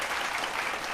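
Steady applause fills the whole moment, a dense even wash of clapping at moderate volume with no voices over it.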